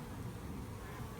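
Honey bees clustered on a person's hand and face as a bee beard hum in a dense, steady drone, close and continuous with no gaps.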